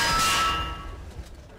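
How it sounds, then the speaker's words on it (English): A single loud metallic clang of a bell in the shooter game Gears of War 3, ringing and fading away over about a second. "The bell."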